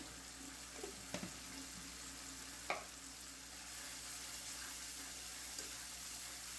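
Cumin and coriander powder frying with spices in a pan, a steady low sizzle with a few faint scrapes of stirring, no voices.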